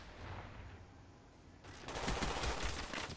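Rapid automatic fire from a Kiparis submachine gun in Black Ops 1 bursts in after a quieter game ambience and continues as a loud, dense rattle to the end.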